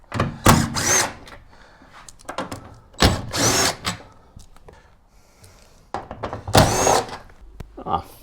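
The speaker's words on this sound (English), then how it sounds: "I'll get an impact wrench and let's get those out." An impact wrench rattles 10mm bolts out of a van bulkhead in three loud bursts of hammering buzz, each about a second long, separated by quieter clunks and handling noise close by.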